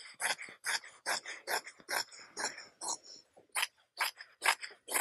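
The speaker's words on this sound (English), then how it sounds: "I'm actually going to go ahead and cut the face fabric and the lining all together" Scissors snip steadily through drapery face fabric and lining layered together, a close run of quick crisp cuts in an even rhythm, with no talking.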